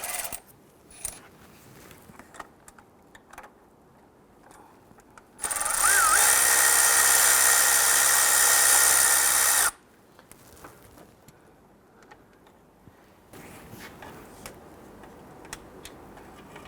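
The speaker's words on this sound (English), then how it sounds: "I'm just going to switch over to a power tool so I can go ahead and zip that out." A loud power tool whirs steadily for about four seconds removing a bolt on a 2006-2012 Toyota RAV4 3.5L V6, bracketed by quieter clicks and handling noises.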